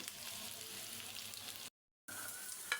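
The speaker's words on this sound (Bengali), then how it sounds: "এই যে আমার বড়াটা হয়ে গেছে ভাজা ভাজা" Lentil fritters (bora) fry in hot oil with a soft, steady sizzle and light stirring, broken by a brief moment of silence before the crackle resumes.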